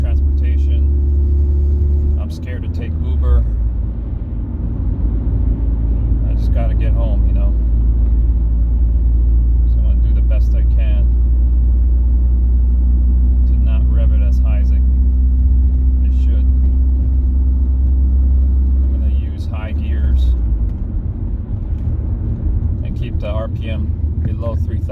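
A car driving without a catalytic converter, kept below 3,000 RPM, gives a loud, continuous low exhaust rumble and drone that dips briefly twice, with faint higher clicks and noises above it.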